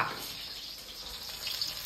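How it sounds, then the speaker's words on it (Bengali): Potatoes frying in oil in a home kitchen pan, a soft continuous sizzle with faint crackle, fairly quiet and close, with no voices. "এখন আলু ভাজাগুলো কিন্তু যা করেছে আলু কিন্তু ভাজাভাজি"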